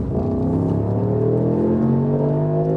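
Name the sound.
Mercedes-AMG SL 63 accelerating from 40 to 70 mph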